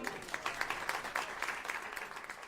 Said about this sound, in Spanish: Un aplauso para nuestros coreutas.